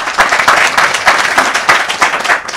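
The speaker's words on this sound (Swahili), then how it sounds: "Piga makofi." A crowd claps loudly and continuously at a press briefing ahead of general elections, a dense steady burst of applause with no talking.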